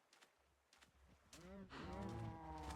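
Cows moo in Minecraft, several low drawn-out calls that swell louder toward the end, heard close with faint background sounds and no clear talk.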